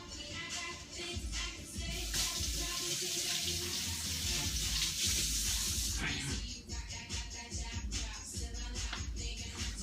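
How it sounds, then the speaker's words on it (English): A kitchen tap runs as produce is rinsed under it, a continuous splashing hiss that swells and shifts as the food moves through the stream, close by, with a few handling bumps. "let me give this a quick rinse"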